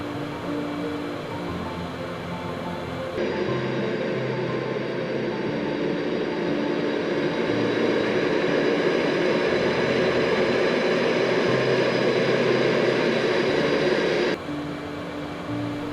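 Concorde jet engines in a flight simulator on final approach to runway 31 right at New York JFK, a steady loud broadband roar with a brief quieter stretch at the start and end, no talking.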